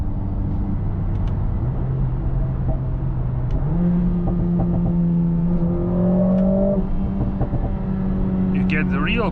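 The 2.0-litre twin-scroll turbocharged M139 engine of a Mercedes-AMG A45S pulls through gears, its pitch stepping upward in sustained, loud, close-up runs, with faint sharp crackles near the end.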